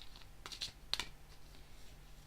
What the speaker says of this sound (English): I shuffle a little bit more